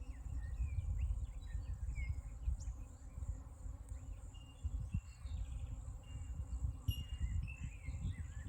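Spring insects buzz and drone in a steady, dense outdoor chorus, with faint bird chirps and occasional clicks over a low rumbling background, no voices.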